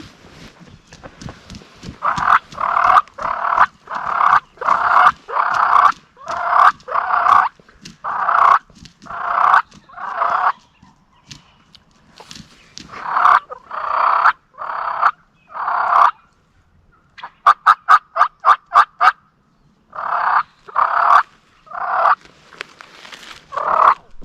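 Wild turkey gobbler during a Nebraska spring hunt, with a flock of hens and jakes nearby, gobbling in repeated loud, rhythmic bursts that come close together and then break into rapid flurries, with no talk.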